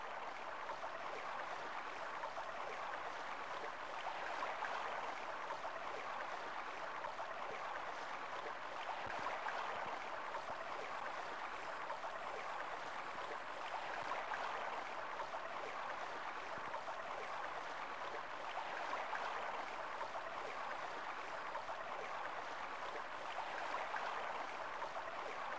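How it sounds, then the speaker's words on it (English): Steady wash of surf in the beach setting of the video game Dead or Alive Paradise, a continuous mid-range hiss of waves breaking that swells gently every few seconds, moderately distant and with no voices over it. "I can hear the waves breaking."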